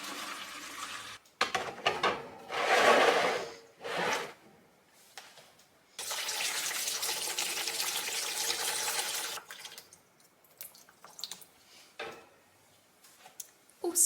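Ordinary tap water pours and splashes as houseplants are watered indoors, coming in bursts of a few seconds each with quieter gaps and small clicks between them.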